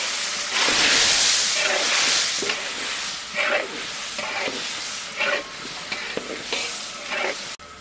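Turmeric spices frying in a pan hiss and sizzle loudly as a little water is added, the steamy crackle swelling at first then settling into steady sizzling with stirring scrapes.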